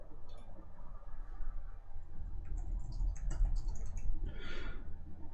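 Quiet, quick keyboard clicks as a short command is typed at a computer terminal, a brief cluster of soft taps over a low background hum.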